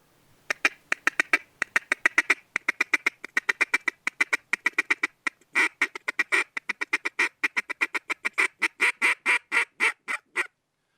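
A Zink duck call sounding a long run of rapid, rhythmic feeding chuckles, close and clear, with brief pauses and a steadier, louder stretch near the end.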